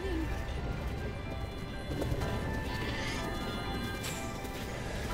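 Horse hooves clip-clopping with neighs at Hyrule Castle in a Zelda video game, faint and steady beneath someone talking and game music.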